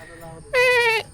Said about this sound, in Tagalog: May kambing na bumisita sa atin na nakakatawa naman